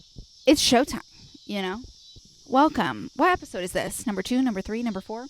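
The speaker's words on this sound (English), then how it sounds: "Can you hear the cicadas in the background?" Cicadas buzz steadily at dusk, a continuous high whine running through the whole clip beneath someone talking close to the microphone.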